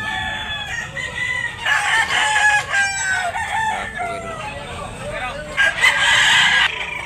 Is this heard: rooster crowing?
yes